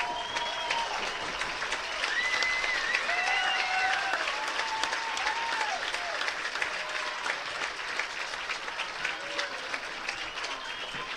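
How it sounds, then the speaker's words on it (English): A football stadium crowd at a high school game stands and applauds the 2024 Mountain Home Athletic Hall of Honor inductees, steady broad clapping spread across the stands with scattered whistles and cheers rising above it. "Would you please stand and give them a round of applause?"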